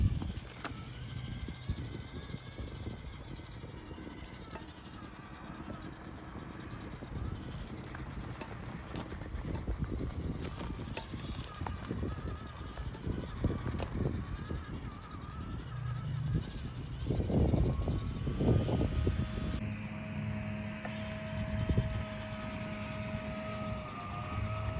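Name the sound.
Axial UTB18 RC crawler with Furitek brushless motor driving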